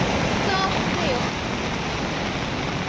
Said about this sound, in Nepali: यहाँ तिनवटा खोला जुट्ने रहेछ